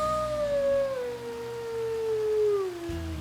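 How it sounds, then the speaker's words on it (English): One drawn-out wolf howl, steady and gradually falling in pitch, rings out over a low rumbling background. "There's really nothing like hearing a wolf howl for the first time."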